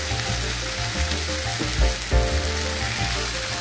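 Fish curry masala sautés and sizzles steadily in a pan, with a continuous hiss of frying and occasional thumps of stirring.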